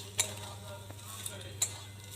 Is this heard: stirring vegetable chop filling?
yes